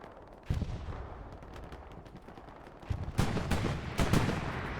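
Tank fire in the World War II shooter Hell Let Loose, during a competitive match with a Panzer IV and a Sherman: several loud, heavy booms ring out in sequence, the later blasts stronger and closer together.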